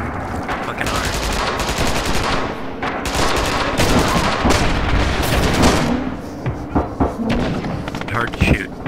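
Machine guns fire in Red Orchestra 2, with dense, loud bursts of automatic gunfire and thudding impacts crowding a multiplayer battlefield over no man's land, with voices talking underneath.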